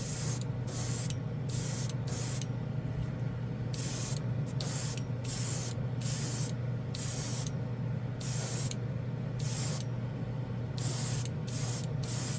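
Airbrush spraying Mecha Empire Fire Mist Metallic paint over a primered spoon: repeated short hissing bursts of spray, close and steady, broken by brief pauses between passes, over a low constant compressor hum.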